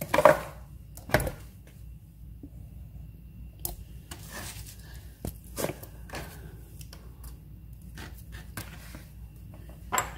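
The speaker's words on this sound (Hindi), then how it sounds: "इसको बारीक बारीक काट लेना। लीफ काट के इसको बाउल में डाल दूंगी।" A knife finely chopping leafy vegetables on a board in a home kitchen, with irregular sharp close taps spread across the clip and a faint steady background hum between strokes, no talking.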